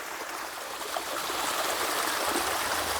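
A small mountain stream trickles steadily downhill beside a little unnamed waterfall, a continuous close hiss and gurgle of flowing water with no voices.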